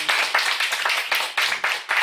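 Rhythmic hand clapping from an audience at a leadership boot camp event, several sharp claps per second, fairly close and steady, sounding like a small-to-medium group applauding in unison.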